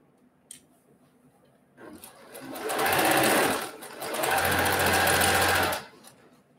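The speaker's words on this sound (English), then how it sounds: "flip it around, and I'm gonna sew it on the other side" A sewing machine stitches the seams of a quilt block, running in two loud bursts of rapid whirring separated by a short pause, with quiet moments before and after.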